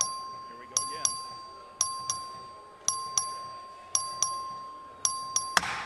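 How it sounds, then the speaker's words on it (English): Voting bell in a Texas legislative chamber, rung by the clerk, chimes in a quick series of sharp, bright strikes, mostly in pairs, each ringing out and fading over a steady high tone, with soft room murmur beneath. "the clerk will ring the bell"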